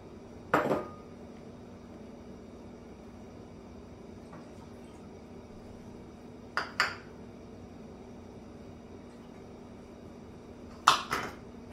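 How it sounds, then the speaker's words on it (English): Teriyaki sauce ingredients being added to a pan on a stovetop: three sharp metallic clinks, widely spaced, each with a short ring, over a quiet hum. "We're going to just add all the ingredients into the pan."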